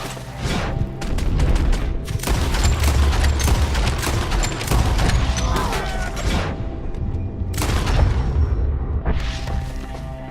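Rapid bursts of gunfire and booming shots from a Red Dead Redemption 2 shootout against enemies up in the trees, loud and sustained for the whole stretch with clattering hits and some faint voices mixed in.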